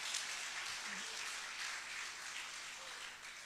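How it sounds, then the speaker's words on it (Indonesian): A crowd applauds continuously, a dense steady wash of clapping filling the room from start to finish. "Tepuk tangan dulu dong."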